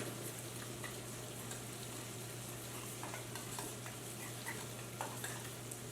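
Sugar and red wine vinegar stirred together for a Sicilian caponata agrodolce: a continuous soft scraping and swishing with a faint sizzle beneath, steady and close, no voices.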